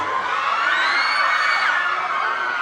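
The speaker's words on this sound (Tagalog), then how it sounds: "grabe, ang sigawan ng ating mga fans" Fans scream and cheer loudly at a mall meet-and-greet for Belle Mariano and Donny Pangilinan, a sustained high-pitched crowd roar with shrill whoops rising and falling.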